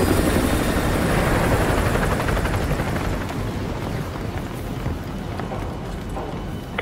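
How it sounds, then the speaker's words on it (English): A military helicopter passes overhead in Call of Duty Modern Warfare 2 Remastered, a loud, steady, thumping rotor roar that fills the whole stretch and eases slightly toward the end, with no talking. "Chopper inbound."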